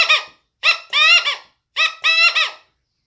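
A hand-held mouth call imitates the Valley Quail's call: five short, high, squeaky chirps in two close groups, loud and clean against silence.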